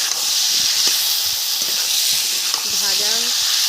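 Jackfruit pieces frying in a pan, a loud, close, steady sizzle with scraping stirring and a few faint voice-like tones underneath.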